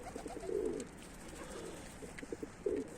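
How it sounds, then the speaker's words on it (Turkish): Soft pigeon coos repeat three times, low and throaty, against a quiet background with faint chirps. "Şu an mavi baskı ötüyor."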